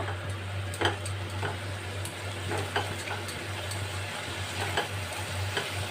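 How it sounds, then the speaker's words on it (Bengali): Spice masala for a Bengali papad and potato curry being sautéed in a pan, a constant close sizzle broken by regular sharp clinks and scrapes of a spoon against the metal, with a low steady hum underneath. "এইভাবে মশলাটা আমি যদি একটু কষিয়ে নেব"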